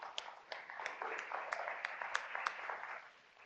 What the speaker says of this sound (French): Je pense qu'ils méritent encore une bonne main d'applaudissements.